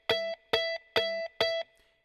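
A guitar chord is strummed four times in an even rhythm, each one cut off short and muted because a fretting finger touches a string it shouldn't, with no one talking.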